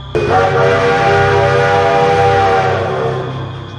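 A cartoon train at a lonely railway station sounds a long, loud horn blast over the rumble of its engine and wheels, holding steady for several seconds before fading slightly.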